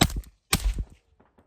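Suppressed Palmetto State Armory 300 Blackout rifle fired through a ported Radian Raptor suppressor: two sharp, loud cracking bursts about half a second apart, each with a short rumbling tail, then quiet.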